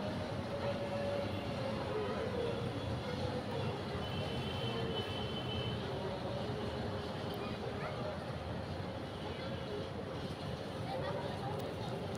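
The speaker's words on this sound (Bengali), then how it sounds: "তারপর দেখো ওই ট্রেন আসতেছে আবার এদিকে" A steady low rumble of a train passing at a distance continues throughout, fairly faint, with a person talking over it, near an air force museum.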